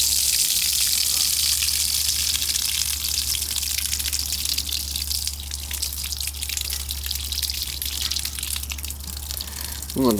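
Water gushes out of an expandable garden hose at an outside faucet, a loud, steady rushing hiss that runs continuously throughout.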